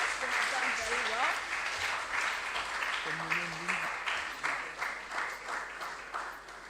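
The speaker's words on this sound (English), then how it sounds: "Please let's give them a round of applause." Crowd applause at a school science and maths quiz in Ghana's Ashanti Region fills the space steadily for several seconds, with a few voices and cheers rising briefly over the clapping.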